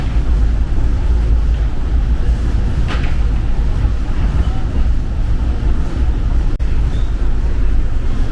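Riding aboard Seattle's 1962 monorail: a loud, constant low rumble of the moving train fills the cabin, with steady mechanical droning and a faint squeak or click now and then.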